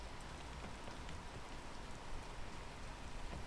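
Steady rain falls in a video game, a dense, even hiss of drops that stays constant throughout with no other sounds.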